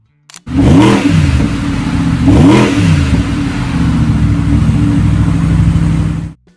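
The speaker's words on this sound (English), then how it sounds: "It's a car that makes you want to take the long way home, just so you can hear that engine roar some more" An Audi R8 V10 engine revs loudly and close, with two sharp throttle blips early on that settle into a sustained, rumbling roar for several seconds before cutting off abruptly.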